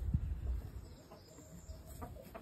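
Chickens and baby chicks in a barn, with a few soft clucks and low chirps near and far, quiet bird calls scattered over a faint background hum.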